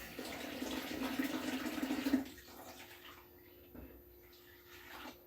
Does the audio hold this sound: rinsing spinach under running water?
yes